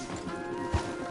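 Horses in Red Dead Redemption 2 make a brief muffled clip-clop of hooves over a dense outdoor game background, with a single soft thud in the middle of the clip.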